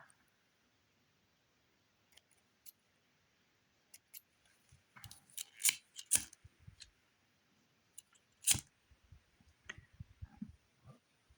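Scissors snip beading thread during work on a cube tennis bracelet, giving a few quiet, sharp clicks and snips spaced out against near silence, with a cluster midway and one crisp cut later.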